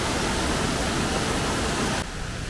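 Fast water in a stream on the way to Kelavali waterfall, Satara, rushes in a steady, full roar close by, then drops abruptly to a quieter hiss near the end.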